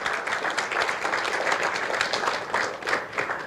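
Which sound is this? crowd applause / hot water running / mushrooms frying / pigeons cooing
crowd applause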